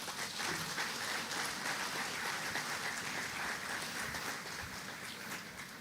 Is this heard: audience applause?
yes